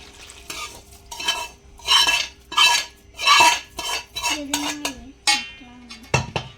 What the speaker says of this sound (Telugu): మంచిగా కలుపుకున్నాక ఇప్పుడు ఆయిల్ పోసుకుంటూ కలుపుదాం